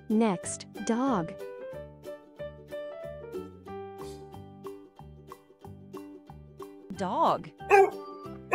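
A dog barks in a short run of yips and bow-wows, moderately close, set against rhythmic background music with a voice.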